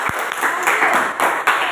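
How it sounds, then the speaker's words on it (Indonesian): A classroom audience applauding after a group presentation, dense clapping of many hands close by, steady for under two seconds with a few louder bursts. "Beri aplaus."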